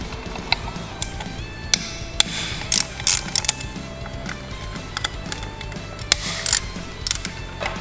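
A ratchet loosens bolts and nuts on a Harley-Davidson Sportster being stripped for a hardtail chopper build, with repeated close bursts of rapid mechanical clicking over a busy workshop background, no voices.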